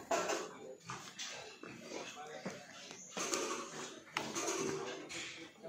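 Pigs on a farm, a sow lying down with piglets around her, grunt and shuffle at close range amid clatter and rustling, with people talking over them.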